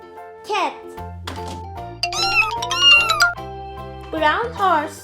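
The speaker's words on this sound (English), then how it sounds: "cat." A toy cat gives out several recorded meows, rising and falling, with a bright musical jingle playing under them and a child-like voice in between, all close and clear.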